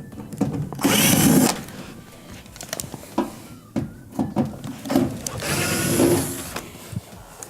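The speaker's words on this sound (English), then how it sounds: "there's going to be 2 screws on the bottom we need to remove" A power drill backs out screws from the bottom of a Frigidaire dryer, buzzing in two close bursts of about a second each, with clanks and handling noises in between.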